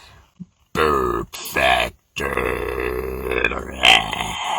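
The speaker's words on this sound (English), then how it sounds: "Now, burp factor, baby." A man lets out several long, loud, close burps after drinking Pepsi peach and vanilla soda from Thailand, with a drawn-out grumbling final belch.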